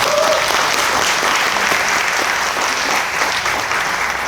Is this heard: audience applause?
yes